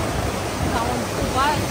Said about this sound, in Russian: Мне нравится шум водопада.